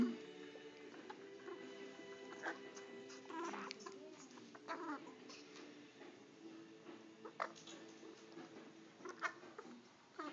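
A pet bird indoors makes scattered soft chirps and clucking calls at irregular intervals, quiet and close, over a low room hush.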